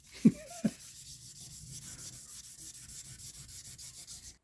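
Wet sanding of a custom-painted Stratocaster body with fine 1500 to 3000 grit sandpaper: two sharp knocks, then a steady run of soft, even rubbing strokes close by with no voices.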